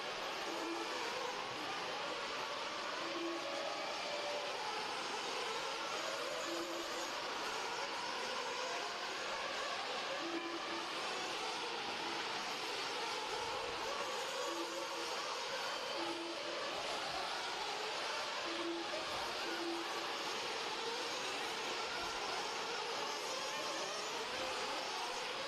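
Nitro-blast dirt race cars take their first qualifying laps on a track, a continuous, distant, roaring engine drone that rises and falls as the cars circle, with a faint repeating tone over the top.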